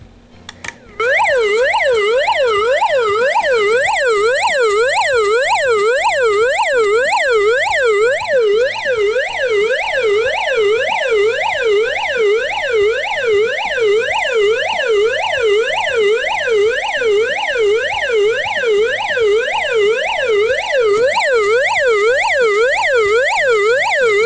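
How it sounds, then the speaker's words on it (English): A GoPower flashlight's SOS alarm sounds a continuous loud, rapidly warbling electronic siren, sweeping up and down in fast regular cycles for over twenty seconds after a brief click as it switches on. "the S.O.S Alarm on the GoPower Flashlight"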